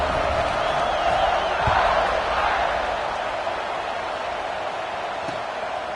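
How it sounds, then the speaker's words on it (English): A large football stadium crowd keeps up a loud, continuous roar and murmur after a touchdown, a broad wash of voices that swells slightly and then settles. "this crowd is buzzing after that last score"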